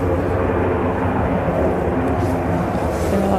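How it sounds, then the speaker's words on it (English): An airplane arrives at Manchester Airport on runway 05R in the early morning, producing a loud, steady engine roar with a broad rumble that fills the whole moment. "I can hear a plane."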